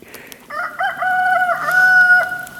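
A rooster crows loud and close in a snowy off-grid yard, one long wavering cock-a-doodle-doo preceded by a few short clucks from the flock.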